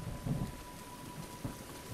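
Rainstorm with thunder in The Legend of Zelda: Breath of the Wild, a continuous hiss of rain layered over low, rolling rumbles that swell twice, with a faint steady tone underneath and no speech.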